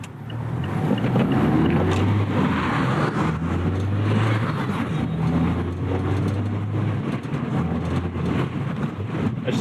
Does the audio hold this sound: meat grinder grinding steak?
no